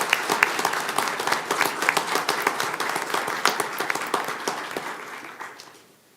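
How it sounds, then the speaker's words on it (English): A round of applause at a school board meeting, dense crowd clapping with a few sharp individual claps standing out, sustained for several seconds before fading away. "So give these guys a round of applause"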